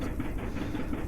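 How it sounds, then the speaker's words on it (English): Car engines in the video game Farmer's Dynasty: chugging engine rumble with a rhythmic, pulsing beat like an old steam train, continuous and fairly loud throughout the short moment. "why do the cars behind me sound like steam engine trains?"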